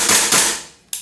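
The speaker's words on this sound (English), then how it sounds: "we'll just test the blowback action so you can see it, because obviously you couldn't see it in the video. So we've got semi-auto." A WE PCC gas blowback airsoft gun fired on semi-auto at close range, giving loud, sharp bursts of gas and bolt clatter, two in quick succession and a third after a short gap.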